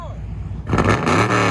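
A straight-piped Chevy Camaro SS fitted with headers sits idling with a rough rumble, then revs hard into a loud, raspy roar that holds steady up close.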